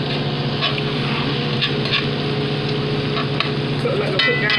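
Philly cheesesteak meat cooking down in a frying pan with only a little grease, giving a steady close sizzle and crackle with a faint low hum beneath.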